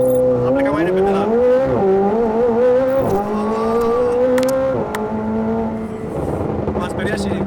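A McLaren 765LT Spyder launches hard under launch control, its engine climbing through rapid gear changes in a loud, rising howl with short dips between shifts as it pulls away, with people talking inside the car.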